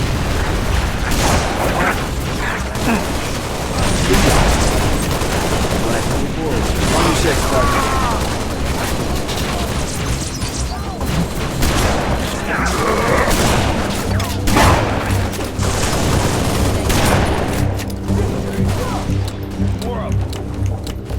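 Dense gunfire and booming explosions in the Halo Reach video game on the Oni Sword Base mission, a continuous loud barrage of shots and blasts with game voices talking over it.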